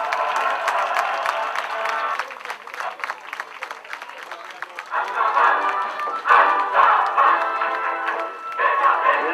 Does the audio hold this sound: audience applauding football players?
yes